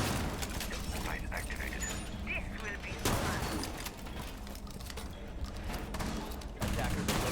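Shotgun gunfire in Rainbow Six Siege during an ESL PS4 community cup match, heard as bursts of loud blasts and clattering game noise with a caster talking over the top throughout.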